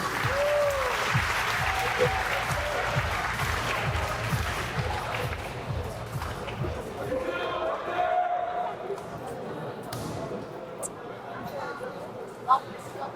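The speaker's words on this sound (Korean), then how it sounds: "여러분 김지웅 선수에게 박수 부탁드리겠습니다." A crowd at a junior welterweight (-65kg) kickboxing title match applauds fighter Kim Ji-woong, with sustained, moderately distant clapping and arena hubbub running under continuous commentator talk.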